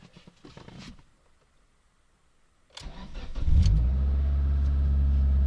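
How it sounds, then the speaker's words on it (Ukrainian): A Mitsubishi Lancer 9 engine cranks briefly and catches after a quiet pause, then settles into a steady, close, fairly loud idle; faint handling noises come before the start. "І зараз ми будемо запускати машинку."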